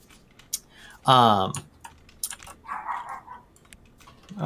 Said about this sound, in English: It sounds like my dog has some rather strong opinions about what's going on outside.